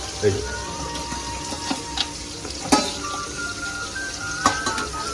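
Mutton curry bubbles and sizzles in a pot in a home kitchen, with clinks of pots and utensils and stirring. Voices talk throughout over the steady cooking noise.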